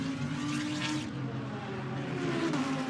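GT3 race cars, an Aston Martin and a Lamborghini, roar past at speed on the Imola circuit, a steady loud engine drone with a higher-pitched rise and fall as cars pass, no talk over it.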